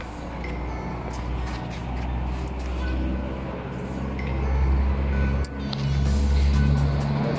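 A BMW S1000RR 2020 motorcycle pulls away from a BMW Motorrad dealership, its engine and exhaust giving a steady, loud low rumble with swells as it rides off, amid road traffic.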